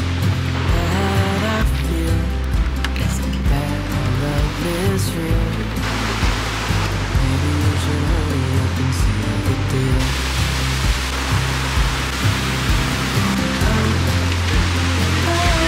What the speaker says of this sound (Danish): Jeg kan allerede se et vandfald.